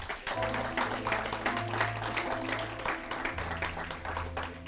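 A church congregation applauding, with a steady wash of clapping under a sustained low musical drone and a faint voice.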